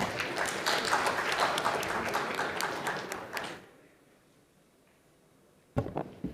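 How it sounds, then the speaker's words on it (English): Audience applause at a medical conference oration in Nagpur, a dense wash of many hands clapping for about three and a half seconds before it fades into quiet room tone, with a brief thump near the end. "A big round of applause for Dr. Nirmal Jaiswal, sir."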